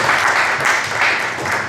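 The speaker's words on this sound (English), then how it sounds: "Come on, let's hear some applause on that." Audience applause at a drone conference, a steady wash of clapping from a crowd that holds at even loudness for under two seconds without any voices over it.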